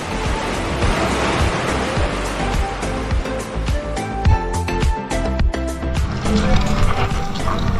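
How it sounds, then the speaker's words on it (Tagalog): Ocean waves wash and lap on a beach shoreline in Puerto Princesa, Palawan, a dense continuous rushing surf with soft swells, moderately loud and close, with no voices over it. "Paggaspas ng alon sa talampasigan"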